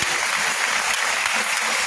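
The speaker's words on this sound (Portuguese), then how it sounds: "aplauda o Senhor pela vida dele" A congregation applauds during a prayer-week service at a Maranata church in Caxias, a brief, dense burst of clapping that fills the whole moment at a steady, fairly loud level.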